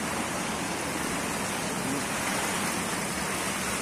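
Cold stream water coming down from a reservoir and flowing through tunnels under an asphalt road gives a steady, loud, dense rushing hiss. It continues unbroken, with no voices over it.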